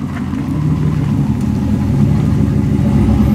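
A 7-cylinder turbo car engine prepared for a burnout challenge runs with a loud, close, steady low rumble that builds slightly in intensity, with no talk over it.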